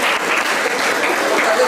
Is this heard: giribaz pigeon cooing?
no